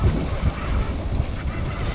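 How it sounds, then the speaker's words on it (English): Big sea waves rush around a solo sailboat on a Gulf crossing from Clearwater to Cape San Blas, Florida, a continuous loud wash of water mixed with heavy wind buffeting the microphone. "Boy, there's some big waves out there."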